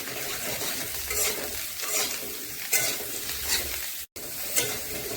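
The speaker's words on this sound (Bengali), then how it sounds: "আলুটা ভালো করে ভাজা হয়ে গেছে, এখন দিয়ে দেবো এই মাশরুমগুলো। এখন এগুলো ভালো করে ভেজে নেব।" Fried potatoes and added mushrooms sizzle in a pan for a cauliflower-mushroom-potato curry, with a constant close crackle, several scraping stirs and a momentary dropout near the end.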